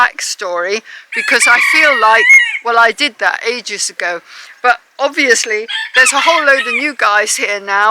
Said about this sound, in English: I apologise for the noise of the cockerels.